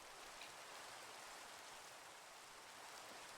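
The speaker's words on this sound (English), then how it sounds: "It is raining because servers, it just rains all the time on servers from what I've heard." Steady rain falls across a Minecraft world on an All the Mods 8 multiplayer server, a soft, even broadband hiss that holds constant throughout with no voices over it.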